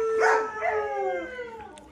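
A breeding dog at a kennel gives one drawn-out, yipping howl that slides downward, close and fairly loud, with no voices.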